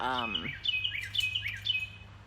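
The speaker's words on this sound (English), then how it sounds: "my bird is back" A pet bird chirps in a string of short, bright tweets close by indoors, following a brief voiced sound at the start, with a steady low hum underneath.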